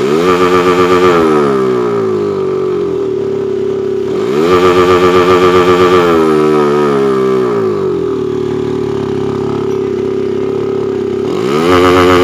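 A Honda CB150R motorcycle engine revs hard to high RPM three times, each rising whine falling back to idle, loud and close with no talking.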